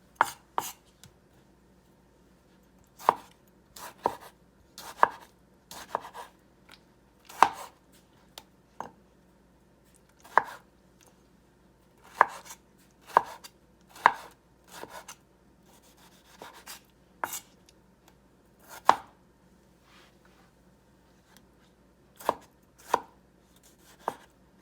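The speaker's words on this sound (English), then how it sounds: "The first thing I'm gonna do is cutting the tomatoes" A knife chops tomatoes on a cutting board in a tagine kitchen, giving sharp, irregular knocks spaced a second or two apart, some in quick pairs. Each knock is close and clear over a quiet background, with no talking.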